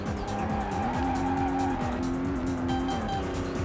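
A car in the PS1 racing game Vanishing Point drives with a loud, continuous engine drone whose pitch rises and drops through gear changes, with tire squeal layered over the top.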